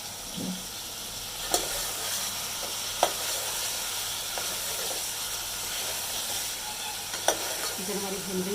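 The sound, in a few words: chicken frying with ginger garlic paste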